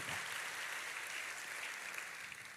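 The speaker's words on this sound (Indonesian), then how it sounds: "tepuk tangannya pula yang paling meriah buat Tuhan kita" Applause from a church congregation, a steady wash of clapping heard faintly and evenly for a few seconds without speech.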